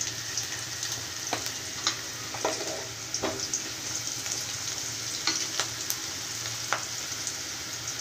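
Turmeric sizzling in hot oil in a pan while masala rasam is being cooked, a steady close crackle with a few sharp pops and spoon scrapes scattered through.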